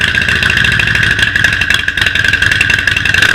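A 2015 Harley-Davidson Road Glide Special cruises down the road with its V-twin engine running steadily, a loud close rumble laced with rhythmic mechanical pulsing and wind noise throughout, with no voices.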